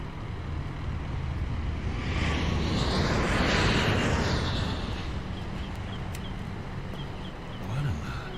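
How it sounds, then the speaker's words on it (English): Propeller airplane passing directly overhead, a broad engine roar that swells toward the middle and then slowly fades, heard alone without voices. "It's just that plane. What about it? Does it always fly directly over the grounds?"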